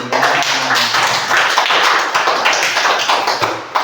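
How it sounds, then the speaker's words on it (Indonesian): A classroom of children claps for their classmate, a dense, loud burst of many hands that stays constant for a few seconds. "Anak-anak beri tepuk tangan dulu ya pada Anggi"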